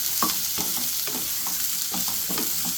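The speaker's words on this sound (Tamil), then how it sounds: "வெங்காயம் இப்படி வதங்கிட்டு இருக்கும்போது ஒரு 4 காஞ்ச மிளகாவை போட்டுக்கோங்க." Onions and four dried chillies sautéing in a pan for onion chutney, a steady sizzle and frying hiss with rhythmic scraping stirs of a spoon repeating about every half second, close and fairly loud.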